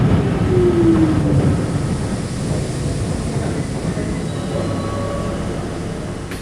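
An R40 Slant C local subway train rumbles loud and steady at Chambers Street station, with a brief squeal of wheels or brakes near the start and a low hum running throughout.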